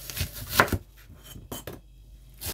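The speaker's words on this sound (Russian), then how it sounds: "Полукольцами нарезаю 2 средних луковицы общим весом 150 грамм" A kitchen knife slices onions into half rings on a cutting board while making a baked pork neck dish, giving a few distinct chopping knocks with short pauses between cuts.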